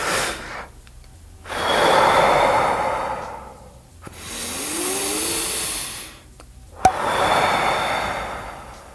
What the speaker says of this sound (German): Aber ihr atmet auf jeden Fall länger aus, als ihr eingeatmet habt.